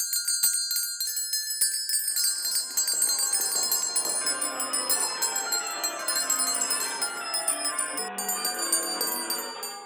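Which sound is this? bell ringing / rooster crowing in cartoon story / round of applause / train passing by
bell ringing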